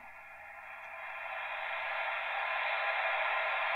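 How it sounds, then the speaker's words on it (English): Steady hiss of static comes from the audio output of a Heathkit HW-101 amateur radio under test, a broad continuous noise that swells slightly louder after the first second and then holds. "In this case, that static noise is a good thing because it means that the audio stage is more than likely working okay."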